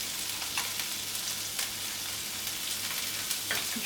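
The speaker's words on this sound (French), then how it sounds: "Je fais revenir la gousse d'ail, les côtes de blettes" A garlic clove and chard stems sauté in olive oil in a saucepan, giving a steady, close sizzling hiss with a few soft crackles throughout.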